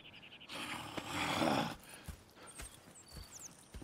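Horses snort and whinny, followed by scattered hoof clops on hard ground, fairly close and moderately loud, in the video game Red Dead Redemption 2.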